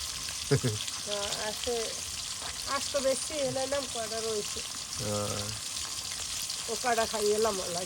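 Tilapia fish fries in a pan with a soft, continuous sizzle under a person talking intermittently throughout.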